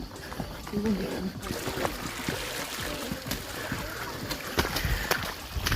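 A river stream flows and trickles beside a muddy forest trail-running track in southern Bogor, with continuous close water rush and splashing under footsteps and movement, no talk heard.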